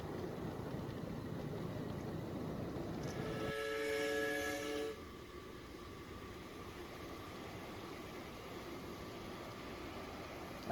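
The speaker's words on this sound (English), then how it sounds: "That's a pretty cool train right there." A model steam train runs on a miniature railway track with a continuous rumbling roll, and its whistle sounds in a bright chord for a couple of seconds before the running noise continues alone.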